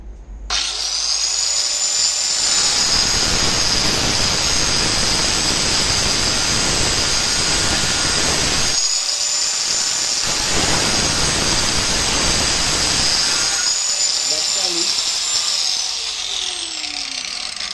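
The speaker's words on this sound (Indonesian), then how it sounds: "hanya mendapatkan beban dari gerinda langsung terpotong" An old angle grinder cuts through material with a loud, steady high-pitched whine and grinding roar, running in long sustained passes with a brief dip in the middle, close and continuous with no talking.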